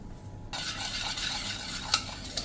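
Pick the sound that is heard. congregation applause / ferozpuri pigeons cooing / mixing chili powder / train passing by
mixing chili powder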